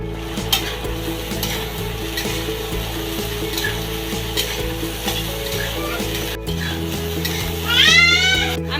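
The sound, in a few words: stirring spiny gourd frying in a pan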